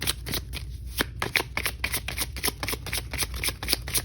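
Tarot cards being shuffled by hand, a rapid run of crisp riffling flicks and soft slaps, close and steady, heard alone for several seconds.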